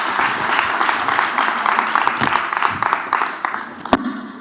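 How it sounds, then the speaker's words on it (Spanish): Audience applause fills a lecture hall after a talk on the physiological bases of intelligence, a steady dense clapping held at even loudness for several seconds, with one sharp louder clap near the end. "Un aplauso."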